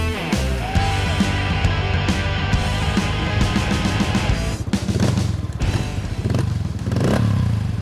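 Honda pit bike motorcycle engine running loudly and close, a steady broadband drone with clattering and thumping mixed in, then a brief dip before it carries on.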